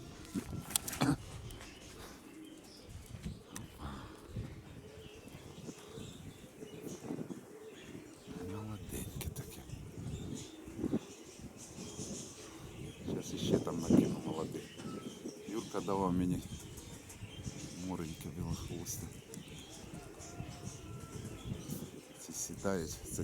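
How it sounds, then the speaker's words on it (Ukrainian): Pigeons coo repeatedly in soft, low murmurs close by, while a person speaks intermittently over them. "сіра ще не літала толком, це голубка знизу"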